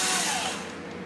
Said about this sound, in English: Let's go ahead and drill these out.